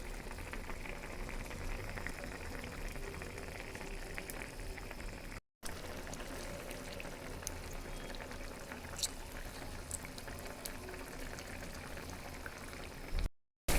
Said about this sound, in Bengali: এই চুলাতে পুঁঠি মাছ হচ্ছে আর এই চুলাতে আরেকটা তরকারি রান্না করছি